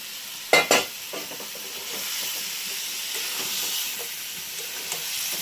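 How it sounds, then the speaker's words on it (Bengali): Steady sizzling and hissing of chicken sautéing with fried potatoes in a hot pan for Bengali chicken curry, with a couple of sharp clatters near the start, close up and continuous. "ভালো করে আমি কষিয়ে নেব।"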